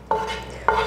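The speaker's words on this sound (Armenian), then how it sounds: "Բուսայուղի մեջ տապակում ենք, մի փոքր ջուր ենք ավելացնում" Chinese cabbage stirred while frying in vegetable oil: a steady low sizzle with two sharp scraping stirs, one at the start and one near the end, close and clear with no talk.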